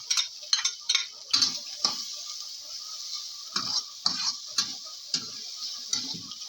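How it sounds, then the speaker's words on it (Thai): Rice being stir-fried with fermented pork (naem) and light soy sauce in a pan, with repeated scraping and tossing strokes of a spatula over a soft, steady sizzle. "ก็ผัดใส่ข้าวลงไปค่ะ"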